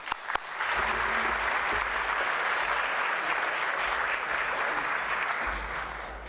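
Audience applause at an anniversary gala luncheon, a sharp clap or two and then a dense, even roar of many hands clapping, steady and sustained to the end.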